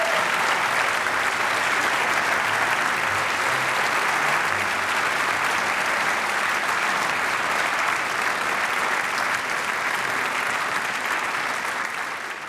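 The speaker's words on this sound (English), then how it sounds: "Now for all 8 of them, big applause." Sustained loud audience applause fills a hall at a European heritage awards ceremony, dense steady clapping from a large crowd that continues unbroken for over twelve seconds before easing slightly at the end.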